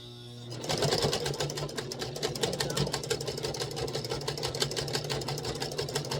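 An older sewing machine runs steadily and loudly up close, its fast mechanical needle clatter starting abruptly and continuing evenly throughout.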